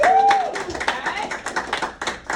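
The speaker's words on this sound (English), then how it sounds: "Akins a round of applause" Scattered clapping from a classroom of students applauding a guest teacher, a brief round of uneven hand claps mixed with voices and a short whistle-like tone at the start.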